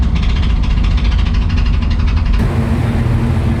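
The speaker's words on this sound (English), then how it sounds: "either the exhaust or something's come a little bit loose and she's knocking around a little bit" Classic Porsche Breadvan race car running loud and close with a steady engine drone and an uneven knocking rattle from a loose exhaust or part, tone shifting partway through.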